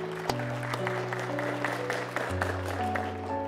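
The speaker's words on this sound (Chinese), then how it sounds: "并再一次响起你们最最热烈的掌声" Wedding guests applaud warmly as a couple is invited to walk down the aisle, a steady wash of clapping beneath sustained ceremonial music.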